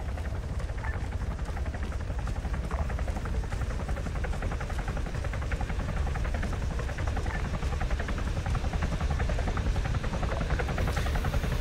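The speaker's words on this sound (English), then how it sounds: "There's two choppers coming." Helicopter rotors in Arma III, two choppers approaching, make a steady dense thudding roar throughout, constant and fairly loud with no voices.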